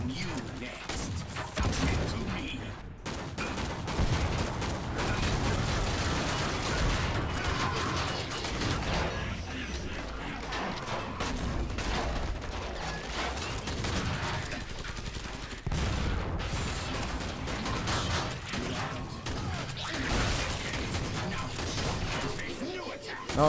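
Dense gunfire from Killing Floor 2, a video game, with rapid bursts and mechanical clatter running almost nonstop at high level, broken by brief gaps, with excited talk over it.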